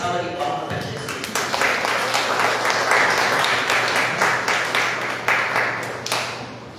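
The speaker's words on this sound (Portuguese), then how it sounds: "Uma salva de palmas para Jesus." A church congregation applauds for Jesus, a dense wash of hand claps filling the room at steady loudness for several seconds, with a voice briefly heard near the start.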